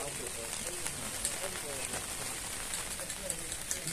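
Light rain patters steadily outdoors, a dense, even hiss with scattered soft drops close by, while people talk and move around nearby.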